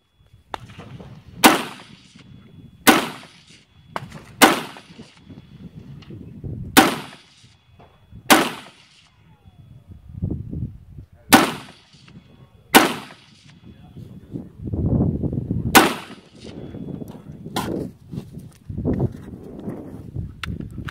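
Gunshots on a 3-gun match stage, about a dozen sharp loud cracks at irregular intervals of a second or two, each with a short echoing tail, mixed with movement noise and occasional shouted words between shots.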